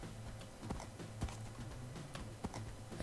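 Donkey hoofsteps on terrain in Minecraft, a steady run of hollow clip-clop thuds with a few sharper strikes standing out over game ambience.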